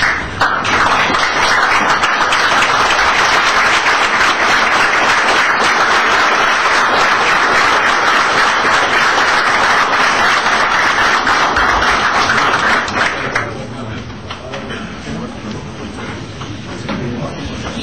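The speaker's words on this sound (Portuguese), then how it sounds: "eu peço a todos que aprovam a chapa inscrita uma salva de palmas de pé" A standing assembly at an association's general election meeting claps loudly and continuously in approval of the slate for the new presidency, a dense sustained ovation that drops sharply near the end into scattered claps and murmuring.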